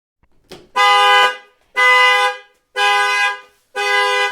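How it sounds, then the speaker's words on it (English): A loud 2024 Cadillac XT4 car alarm blares in four steady, evenly spaced honks, each lasting about half a second, close by. "the alarm's going to be loud"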